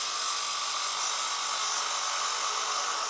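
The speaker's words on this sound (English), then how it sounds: "to make the start of this recess, I'm just using my bowl gouge" A bowl gouge cuts a recess into wood spinning on a lathe, producing a steady, high, hissing whir that holds constant and close throughout, with no talking.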